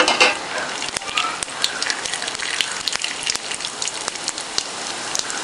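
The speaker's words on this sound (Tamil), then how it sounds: "கடுகு வெடித்த உடனே" Mustard seeds spluttering in a spoonful of hot oil with urad dal for spicy kozhukattai, a dense run of sharp crackling pops close up with no talk.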